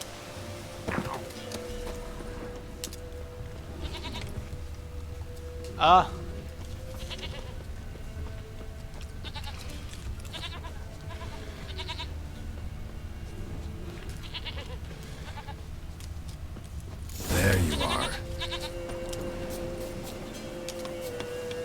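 A goat bleats in an adventure video game, a few short cries scattered over quiet ambient background, with someone speaking softly between them.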